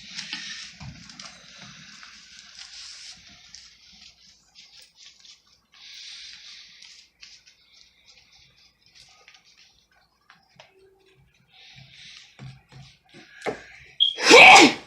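A single sharp sneeze bursts out at the end after quiet, faint rustling and light clinking sounds.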